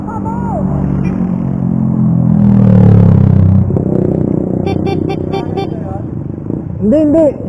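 A pocket bike motorcycle engine rumbles low and steady, swelling toward the middle before easing off, with people talking over it.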